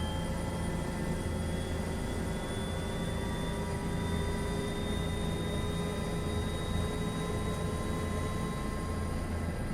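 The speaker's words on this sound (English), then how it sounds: "But it got the engine going." A steady, continuous aircraft engine drone in a flight simulator game, with a constant low rumble and high whine, unchanging throughout, with no voices.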